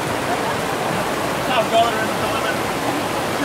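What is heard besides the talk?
warm downpour rain near waterfalls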